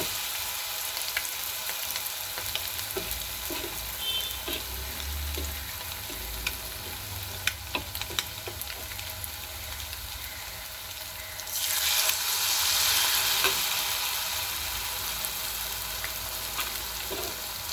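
Egg pieces for Chinese egg chilli fry in oil over a medium flame, giving a constant close sizzle with scattered ticks and pops, then a louder hissing surge partway through. No talking.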